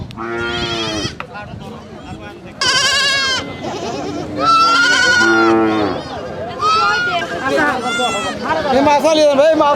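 Goats bleat repeatedly at a busy livestock market where goats are sold for Eid, loud and close, with harmonic cries overlapping amid crowd babble and people talking.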